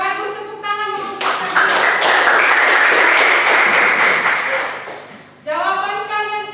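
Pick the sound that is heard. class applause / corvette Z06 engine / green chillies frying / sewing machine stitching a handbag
class applause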